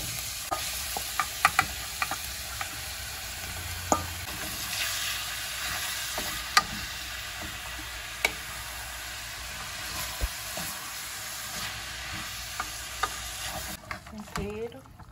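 Meat sizzles steadily in a hot pan while being prepared for macaronada, with sharp scraping and clinking strokes of a spoon stirring it at irregular intervals, close and moderately quiet throughout.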